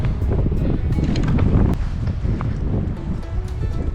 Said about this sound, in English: So here comes that wind again.